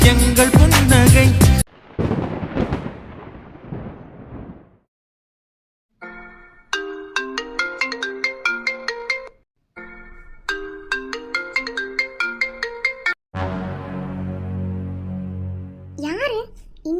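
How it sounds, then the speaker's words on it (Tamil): A mobile phone ringtone plays for an incoming call, a melodic electronic tune in repeated phrases with short pauses between them, loud and close, following a burst of other sound at the start. "யாரு இங்கேதான் எனக்கு ஃபோன் பண்றது?"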